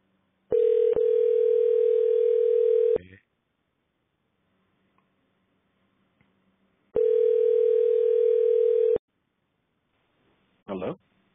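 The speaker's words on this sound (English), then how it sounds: "Okay. It's dialing." A telephone ringback tone plays twice as a call is placed, each a steady two-second tone separated by a few seconds of near silence, followed by a brief click.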